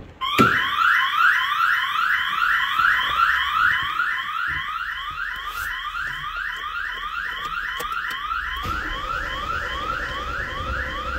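A Hyundai Accent's Patrol Line car alarm, set off by opening the door, wails loudly with a rapid repeating rising whoop, close and steady, with faint clicks and a brief change in background rumble partway through.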